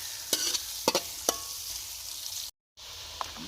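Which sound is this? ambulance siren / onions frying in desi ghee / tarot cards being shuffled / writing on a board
onions frying in desi ghee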